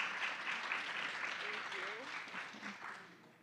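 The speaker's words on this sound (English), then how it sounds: "Let's give Vinny a round of applause." Faint, distant audience applause at a CGI U 2023 fundraising skills session, a steady patter of clapping that fades slightly toward the end, with a voice faintly underneath.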